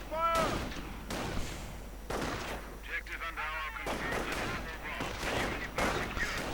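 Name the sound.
video game gunfire, Panzergrenadiers engaging riflemen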